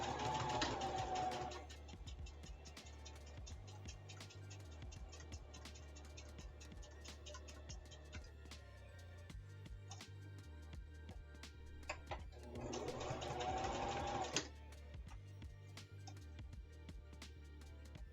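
A sewing machine stitches appliqué stars and mini dice bags, whirring in two fast, loud bursts at the start and near the end, with quieter ticking and handling noise in the gap between.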